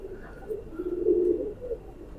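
A Ferozpuri male pigeon and a Teddy female pigeon, kept as a breeding pair, coo in soft, low, rolling phrases that swell in the middle and then fade, close by and fairly quiet.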